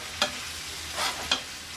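Orange shrimp stir-fry with warming orange segments sizzling in a pan, a steady hiss with a few brief stirring swishes, close and fairly loud, with no talk.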